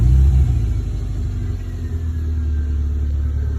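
A 2005–2007 Subaru Impreza engine idles with a steady low rumble and droning hum, louder at first and then settling into an even running tone, with no talk.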